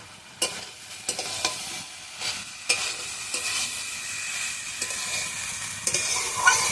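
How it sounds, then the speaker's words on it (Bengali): Vegetable curry with pumpkin and banana stem frying in a pan, a soft continuous sizzle broken by a series of spatula scrapes and stirs at irregular intervals, close and fairly quiet with no talking. "তরকারিটা আমি ভালোভাবে কষিয়ে নিয়েছি"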